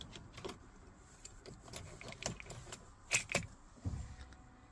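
Keys jangle faintly around a 2023 Peugeot Partner as a working key starts it, with soft clicks and clunks and a brief low engine catch near the end, all quiet and close.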